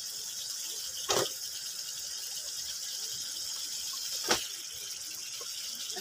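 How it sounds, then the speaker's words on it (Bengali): Cut green beans hit hot oil and spices in a pan for a hilsa fish and bean curry, producing a steady, close sizzling hiss. Two brief sharp clatters of utensils break through it. "এই পর্যায়ে আমি এখন শিমগুলো দিয়ে দিচ্ছি"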